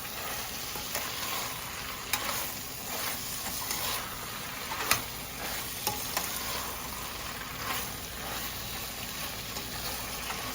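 Okra (bhindi) frying in a pan, a steady close sizzle with scattered clicks and scrapes of stirring throughout, no voices.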